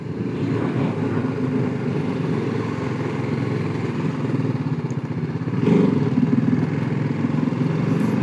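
A motorcycle riding through narrow streets in Germany's Rhine Valley, its engine running with a steady close-up putter that swells briefly louder partway through, with no voices heard.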